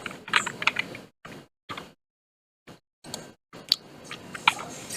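Bursts of computer keyboard typing as code is entered, quick clusters of clicky keystrokes separated by short pauses, fairly close and quiet, with no talking.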